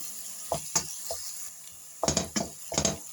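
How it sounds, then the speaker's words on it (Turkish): Onions and green peppers sizzle together in a hot pan as a spoon stirs them, with several short bursts of scraping and frying noise and quiet gaps between. "Hepsini beraber kavuruyorum."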